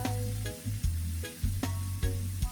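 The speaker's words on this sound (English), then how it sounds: "So I'll fry these out and I have some more." Sliced fish frying in hot oil for Jamaican escovitch, with a steady close sizzle and repeated sharp clinks and scrapes of stirring in the pan, and no talking.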